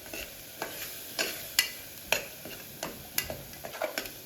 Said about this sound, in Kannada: ಅದು ಇವಾಗ ಅದಕ್ಕೆ ಶುಂಠಿ ಬೆಳ್ಳುಳ್ಳಿ ಪೇಸ್ಟ್ ಹಾಕೊಳ್ಳೋಣ